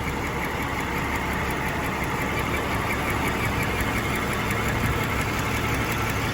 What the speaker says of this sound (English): So this is just the engine running.